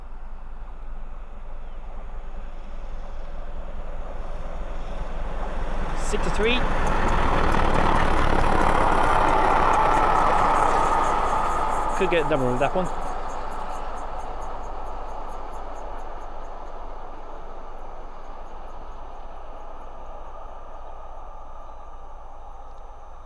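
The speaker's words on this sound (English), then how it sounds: "we've got a steam train coming through" A steam train rolls past a trackside spot on the West Coast Main Line at Linslade, a broad swell of rumble and hiss building to a peak and fading, with brief whistle-like tones and someone speaking quietly nearby.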